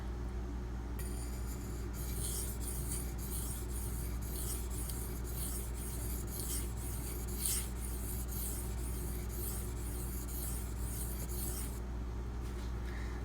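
Knife blade, Brous Bionic XL in D2 steel, drawn repeatedly across a 2500 grit sharpening stone, giving a steady run of rhythmic gritty scraping strokes, close and continuous, with no talk.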